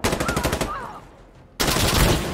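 Rapid automatic gunfire in the shooter game Insurgency Sandstorm, loud and close, a quick burst of about eight shots, a brief lull, then another loud volley of shooting.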